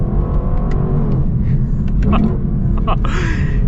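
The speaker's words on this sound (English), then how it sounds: "love the sound that this naturally aspirated V8 makes" A 2026 Lexus LC 500's naturally aspirated V8 rumbles low and steady throughout, a deep throaty drone from inside the car with a few faint clicks and knocks over it.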